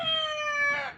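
A rooster crows once at close range, a strained, rising call with bright harmonics that holds for about a second before breaking off at the end.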